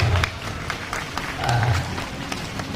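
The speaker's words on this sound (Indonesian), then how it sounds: "tepuk tangan dulu" A crowd claps in a dense, steady patter of applause that carries on throughout, with a few voices faintly underneath.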